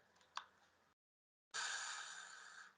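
A long, steady exhale from a person doing a guided breathing exercise, blown out slowly as if extinguishing a candle flame, following a brief gasp-like intake and a short silent hold; close and clear with no talking.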